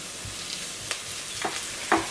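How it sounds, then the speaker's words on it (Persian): Finely diced onions sautéing in a pan for a Persian herb stew, a steady soft sizzle with a few faint stirring scrapes, moderately quiet and without talk. "باید پیازامون رو تف بدیم، پیازایی که نگینی خرد کردیم"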